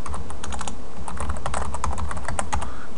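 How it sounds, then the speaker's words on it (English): Rapid typing on a computer keyboard while entering login details during an ecommerce software setup, a steady run of close, crisp key clicks with no talking. "we'll go ahead and type in our information here"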